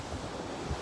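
Ocean surf and breeze on a beach at Oak Island: a continuous broad wash of waves mixed with wind buffeting the microphone, loud and steady with a slight swell near the end, no voices.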